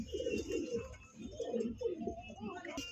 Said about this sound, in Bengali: প্রিয় বন্ধুগণ দেখতে পাচ্ছেন এখানে কিন্তু এক জোড়া লাহোরি কবুতর আছে